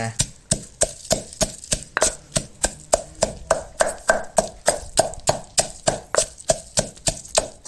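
Chili paste pounded in a mortar for a Isan-style chicken curry, steady rhythmic thuds of the pestle, about three per second, close and loud with no talk.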